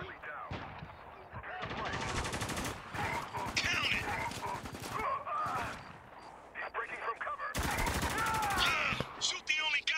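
Gunfire in the video game Spec Ops: The Line, rapid automatic bursts and sharp shots rattling through a chaotic firefight, with shouted voices over the shooting.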